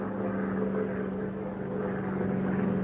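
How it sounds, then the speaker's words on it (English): A single airplane passes overhead as a steady, continuous propeller-engine drone with a low hum, holding even and fairly loud throughout with no voices. "it's that plane again."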